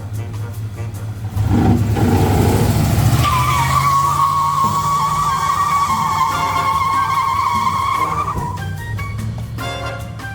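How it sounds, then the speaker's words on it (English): An old pickup truck's engine roars as tires squeal and spin in a long, loud burnout, the high screech holding steady before easing off. "We never did find out if this truck could do burnout."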